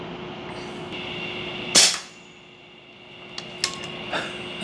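An AEA Challenger Pro air rifle fires a slug, a single sharp close crack that fades quickly, followed by a few faint ticks and clicks in a quiet setting.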